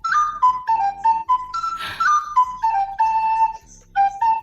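A whistled tune carries a clear melody of short sliding notes in a steady rhythm, bright and close with no talking over it, played over the radio.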